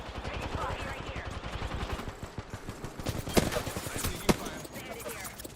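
Rapid video game gunfire in a late-night gaming session: a dense, continuous rattle of shots with two louder, sharper cracks near the end, with faint voices underneath.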